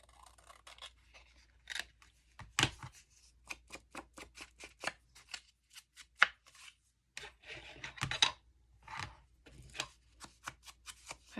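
Scissors trimming paper or fabric for a handmade pocket journal with fabric binding, a series of quick crisp snips in irregular bursts, close and fairly quiet, with no talking.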